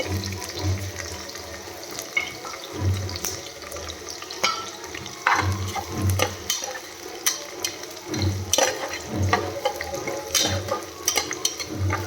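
Carrots are sautéed with green chillies in a pressure cooker for vegetable pulao, giving a steady, close wet sizzle with uneven low thumps and scraping from stirring over the whole stretch, with no talk.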